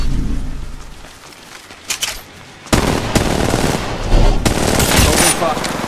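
Bursts of gunfire in the mobile game Apex Legends Mobile: a short stutter, then dense, loud automatic fire from about the midpoint onward, with some voice under it.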